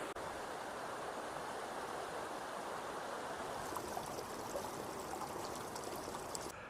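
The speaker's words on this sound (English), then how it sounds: "Made it to the river" River on Dartmoor flowing steadily, a continuous broad rushing wash of water heard from nearby at moderate level, with brighter splashing detail in the second half.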